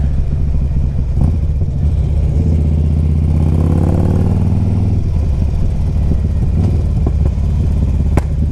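Harley-Davidson Street Glide CVO motorcycle engine revving close by, a loud rumble that climbs in pitch mid-clip before settling back to a throaty idle.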